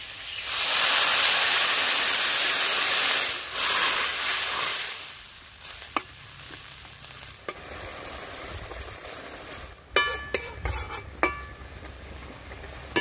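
Telakucha greens frying in a pan as water goes in, a loud hissing burst that fades after a few seconds into quieter simmering, followed by scattered clinks and scrapes of a utensil.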